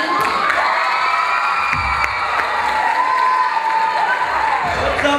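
An audience at a 2007 school talent show cheers and applauds, with children shouting and whooping in a dense, continuous crowd roar.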